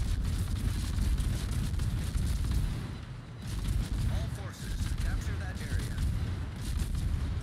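Naval gunfire in the World of Warships game, with booming artillery salvos and rumbling low blasts rolling continuously beneath a commentator's voice.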